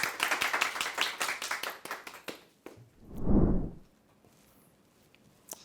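Applause from a book-show audience welcoming an author to the stage for a short lecture. Brisk, moderately loud hand clapping runs for about two and a half seconds, then gives way to a dull, muffled thump and near silence.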